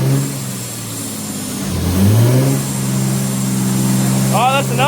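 A manual-transmission car's engine revs up, dips as it shifts, and climbs again through the gears, a steady close engine drone with a voice talking over it.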